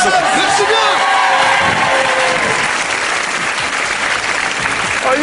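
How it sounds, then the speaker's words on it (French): A French television studio audience bursts into loud clapping with some cheers and whoops, a dense sustained ovation filling the room throughout. "On peut l'applaudir"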